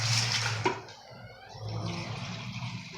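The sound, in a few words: pouring cups of water into chili pot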